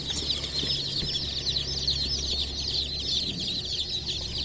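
Baby chicks just bought and boxed for the trip home, a dense chorus of high cheeping that runs on and on, with a low steady hum beneath.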